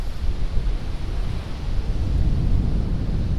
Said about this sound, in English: Look how windy it's become.